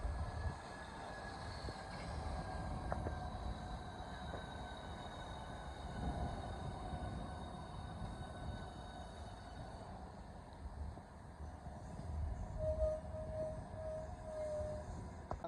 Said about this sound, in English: Departing is the 1425 Southeastern service from Ramsgate via Margate and Faversham to London St Pancras.